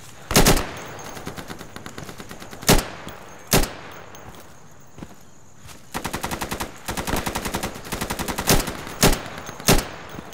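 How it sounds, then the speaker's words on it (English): Gunfire in the video game Insurgency with tracer rounds: loud close single shots, then sustained rapid automatic bursts near the end, with no voices. "See some tracer rounds going off"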